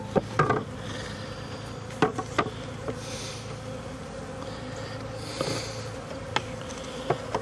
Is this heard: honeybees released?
yes